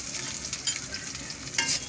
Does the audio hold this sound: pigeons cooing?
no